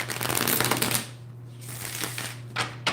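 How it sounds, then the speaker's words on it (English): An Aquarian Tarot card deck is shuffled by hand, giving a rapid, crisp riffling flutter up close, easing off briefly before a few more quick card flicks near the end. "I'm shuffling this deck"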